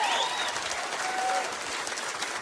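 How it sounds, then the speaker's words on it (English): Crowd applauding and cheering at a political rally in Reno, Nevada, a steady, dense wash of clapping throughout with faint whistles over it. "Clap if you're hearing me"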